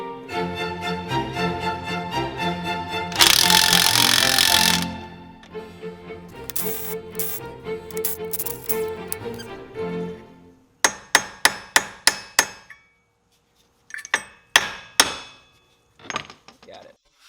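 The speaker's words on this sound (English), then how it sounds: "Luckily, I'll have very easy access to use my impact wrench here to loosen that up." An impact wrench loosening a 24 mm suspension bolt on a 2008 BMW 535xi, with a sustained rattling hammering close up followed by several short bursts of rapid impacts separated by pauses.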